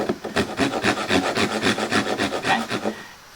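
A hand saw cuts through wood along a marked line, its quick back-and-forth strokes close and loud in an even rhythm before stopping.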